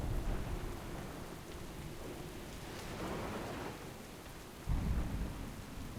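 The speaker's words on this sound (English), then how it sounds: "Warlord, this storm will soon overwhelm us." Thunderstorm in the World of Warcraft game, with steady heavy rain and low rolling thunder throughout, swelling to a louder rumble near the end, no voices.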